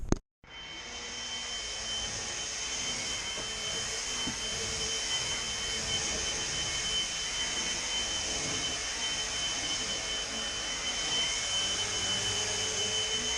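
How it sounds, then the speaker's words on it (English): Vacuum cleaner running steadily while a bedroom is vacuumed, a close, continuous whirring roar with a high whine that starts abruptly and holds at even loudness throughout, no talking. "This just proves that I'm actually vacuuming"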